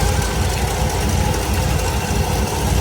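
A 1964 Buick LeSabre V8 idles steadily with an exhaust leak, giving a continuous low, rough rumble with a ticking, puffing edge that runs unbroken from start to finish, close by and fairly loud.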